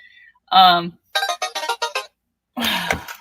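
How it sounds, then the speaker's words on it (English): A phone alarm ringtone plays a short melodic tone, then a quick run of rhythmic electronic beeps, followed by another burst, close and fairly loud. "I thought I turned all my alarms off, but I guess I did not"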